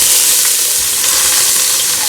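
Seasoning frying in hot oil in a pan for a Jamaican-style cow foot dish, a loud, dense, continuous sizzle heard close up with no pauses and no voices.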